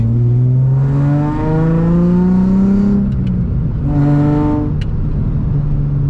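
A Nissan 350Z engine with an exhaust leak revs up twice, rising smoothly in pitch each time before falling back to idle, loud and close, with a raspy, leaky edge and no talking.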